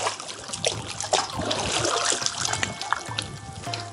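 Feet splash and slosh through shallow sea water at Dahab on the Sinai coast, a continuous close trickling and splashing with irregular louder steps and no talk.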